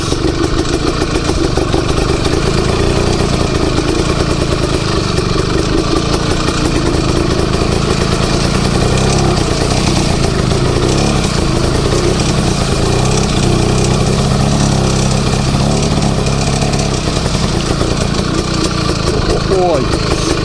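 An IZh Planeta 4 motorcycle engine chugs steadily and loudly while the bike rides along a rut, a close continuous mid-pitched clattering drone, with a rider speaking over it.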